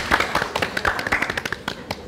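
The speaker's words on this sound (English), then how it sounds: "Just give me a clap for our second set." A church audience claps in a quick, uneven patter of hand claps, fairly close and moderately loud, lasting a couple of seconds with no one speaking.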